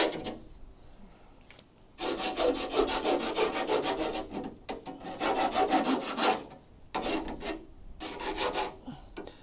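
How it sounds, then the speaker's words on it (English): Burrs being filed off a steel truck frame rail, a rough rasping scrape in several long bursts separated by short pauses, close and fairly loud. "I'm trying to get all the burrs off"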